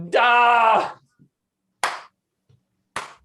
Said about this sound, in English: You get the slow clap, Mr. Anthony